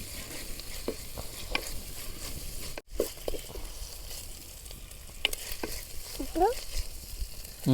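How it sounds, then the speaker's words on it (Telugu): Ginger garlic paste fries in hot oil for a fish head curry, a continuous sizzle with repeated spoon scrapes and stirring clatter close by and a brief dropout midway. "అల్లం వెల్లుల్లి పేస్ట్ వేసుకొని పచ్చి పచ్చివాసన పోయే వరకు వేపాలి"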